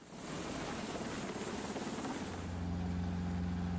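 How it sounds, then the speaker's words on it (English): A rescue helicopter flying, its steady rotor beat and engine drone loud and continuous throughout, with a low tonal hum rising near the end. "rescue helicopters are often the first to reach the crash site"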